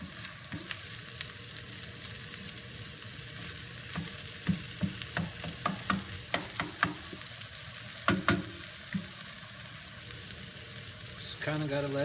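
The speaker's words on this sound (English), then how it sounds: "You can see the egg is starting to cook now." An egg cooks in a hot pan for a breakfast burrito, giving a steady, quiet sizzle with a run of soft clicks and taps from a utensil partway through.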